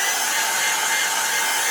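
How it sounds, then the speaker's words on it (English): A loud, steady blowing roar of a hot-air heat tool running continuously up close to dry wet watercolor paper, with no talking. "After I dried everything with my heat tool, yet you can use your hair dryer."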